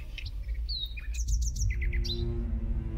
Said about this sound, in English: The Great Tit is a woodland bird which had adapted to living in